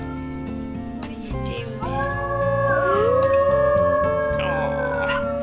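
Wolf pups in the video game WolfQuest 3 raise thin, rising howls that stretch across a few seconds over steady game music, with a brief spoken line near the start.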